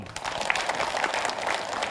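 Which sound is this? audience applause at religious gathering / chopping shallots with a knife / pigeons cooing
audience applause at religious gathering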